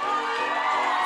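Spectators cheer on a personal trainer's burpee record attempt, a brief burst of loud, dense crowd shouting and whooping that holds steady throughout.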